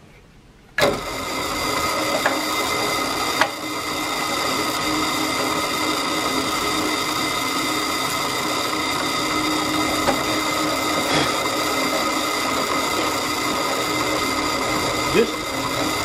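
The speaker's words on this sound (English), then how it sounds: "we're gonna go ahead and drill both these holes." A power drill drilling holes for a knife handle whines steadily for a long stretch, close and loud, with a few sharp knocks and clicks breaking through the continuous motor drone.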